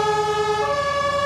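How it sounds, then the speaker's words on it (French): Ambulance siren, a steady tonal wail that shifts pitch partway through, loud and continuous over faint road noise. "Dès le début de la soirée, une ambulance part récupérer un adolescent en état d'ivresse."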